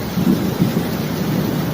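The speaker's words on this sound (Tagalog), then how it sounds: "Sa sulok kami, gawa ng ang lakas ng ulan." Steady, dense roar of heavy typhoon rain pouring down with strong wind, a continuous low rumble with no pauses, close and loud.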